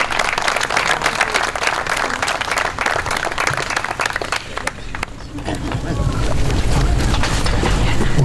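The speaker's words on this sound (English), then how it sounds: "Please give him a hand." Audience applause at a playground grand opening in a park, dense steady clapping from a crowd outdoors that dips briefly and then swells louder toward the end.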